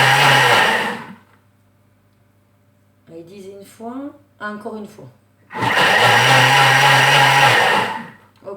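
Kitchen blender on turbo mode pulverizing raspberries for raspberry lemonade, a loud roaring whir in two bursts separated by a quiet pause in which a person speaks briefly.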